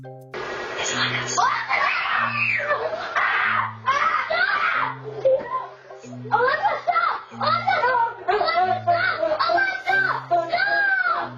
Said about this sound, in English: The 8-year-old boys lose their damn minds and just begin to scream and yell for Alexa to stop.